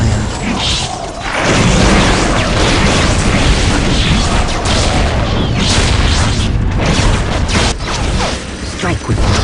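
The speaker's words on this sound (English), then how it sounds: "We are under enemy fire." Enemy fire in the Warhammer 40,000: Dark Crusade strategy game, with a loud, dense wall of booming explosions, rattling mechanical clatter and bursts that runs almost continuously, briefly dipping near the start.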